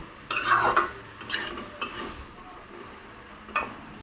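A spoon scrapes and stirs pav bhaji masala frying in a pan, giving a few distinct scraping strokes and knocks spaced irregularly over a faint background, close by with no talking.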